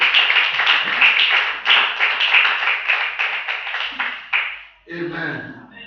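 A church congregation claps in a fast, rhythmic pattern, loud and close, before the clapping gives way to a spoken voice near the end.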